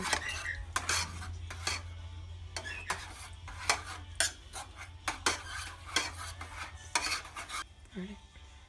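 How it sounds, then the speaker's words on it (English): A utensil stirs pepper into a lasagna meat mixture in a pan, repeated scraping and clinking strokes in an irregular rhythm over a low steady hum, close and fairly quiet. "you're going to want to stir that together"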